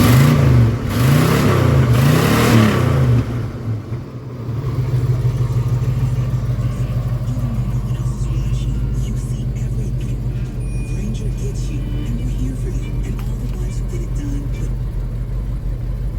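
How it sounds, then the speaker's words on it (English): A 1979 Pontiac Trans Am's exhaust revs hard a few times in quick surges, then settles into a deep, steady idle rumble that carries on loud and close with no talking. "I know what you really want to hear, so I'll be quiet and let you hear this exhaust."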